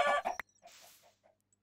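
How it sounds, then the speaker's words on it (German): A few soft clucks from chickens in Minecraft, short and spaced apart, after a brief burst of other game noise; fairly faint with quiet gaps between. "Ich töte mal hier ein paar Hühner."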